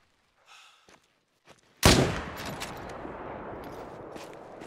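A single loud rifle shot at a moose in the hunting video game Call of the Wild cracks near, then trails off in a long rolling echo, after a few faint quiet sounds.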